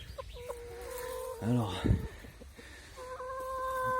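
A flock of backyard hens clucking in a coop at the back of a property, with a few louder squawks in the middle; someone speaks briefly over the soft, scattered bird calls.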